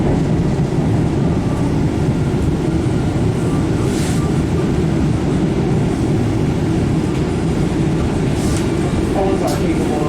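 Loud, steady rumble of an MBTA Siemens 700 Series Blue Line subway train riding between Wonderland and Bowdoin, a continuous rolling roar heard from inside the car, with people talking faintly underneath.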